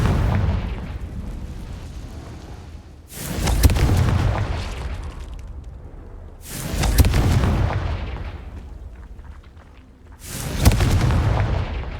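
Three heavy booming blasts from the Confringo fire curse in Hogwarts Legacy, each a loud rumbling burst that swells and fades, spaced a few seconds apart.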